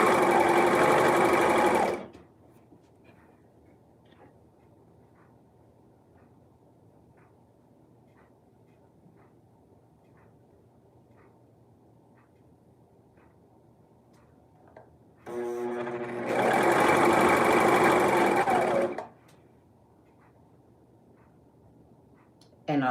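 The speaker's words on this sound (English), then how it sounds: "I like that the serger cuts the fabric as you serge." Serger sewing machine stitching and trimming stretch fabric in two loud, fast whirring runs, each a few seconds long, separated by a long quiet gap with faint soft ticks.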